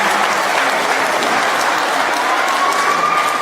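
A large congregation at a youth worship night breaks into loud, sustained applause, a thick continuous roar of clapping with crowd noise that holds steady and close.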